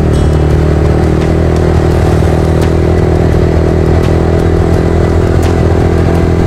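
A loud Yamaha R15 V3 motorcycle engine runs steadily nearby, a constant rumbling drone with faint rattles and clicks on top.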